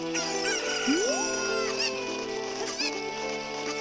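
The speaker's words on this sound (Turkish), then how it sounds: "Elimde tavuk var lan." Chickens cluck and crow in the Zelda Ocarina of Time video game (3DS), scattered short calls over a steady background of game music, with no talking.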